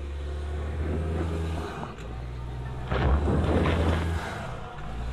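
A lifted Subaru climbs an off-road trail at Lytle Creek, its engine droning steadily, then roaring in a brief surge of effort midway before settling back, with rumble and wind noise close by.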